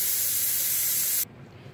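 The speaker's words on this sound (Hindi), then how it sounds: "अब मैं कुकर का ढक्कन लगा के 3-4 विसल लगवाती हूँ उसमें" A pressure cooker whistle lets off steam while dal khichdi cooks. The loud, close, continuous hiss holds steady for over a second, then cuts off abruptly into near quiet.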